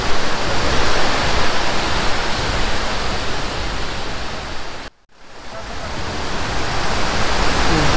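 A broad waterfall at Lake Sebu in South Cotabato roars as a loud, steady rush of falling water, cut by one brief dropout midway before the roar resumes unchanged.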